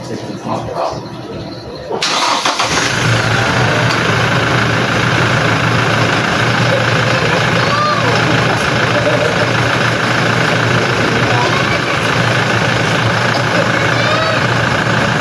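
A vehicle engine cranks and catches after a quiet start at a celebration, then settles into a loud, steady, rumbling idle that carries on unbroken to the end.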